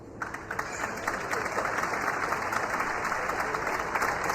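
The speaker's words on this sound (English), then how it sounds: "Fans here in Abu Dhabi applauding" Basketball fans in an arena in Abu Dhabi applaud steadily during an under-18 EuroLeague finals game, a dense, sustained wash of clapping from the crowd.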